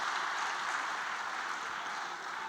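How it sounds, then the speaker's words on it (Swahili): Steady applause from a crowd for a football club leader at a public gathering, an even wash of clapping that holds constant and slightly distant, with no voices over it. "naomba sote kwa pamoja tumpigie makofi"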